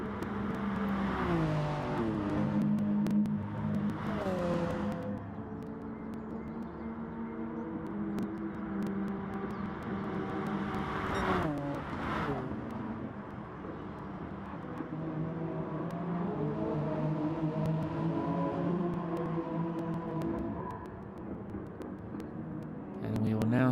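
Racing cars on a warm-up lap at Monza in a racing video game drone and whine as engines rise and fall, with several cars passing by under steady commentary talk throughout.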